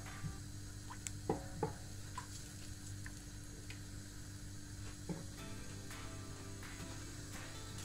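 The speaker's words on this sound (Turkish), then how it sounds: "Şimdi bu eridikten sonra içine unumu koyup kavuracağım." Flour toasting in olive oil in a pan, a soft steady sizzle with a few sharp ticks and scrapes from stirring, close and fairly quiet, no voices.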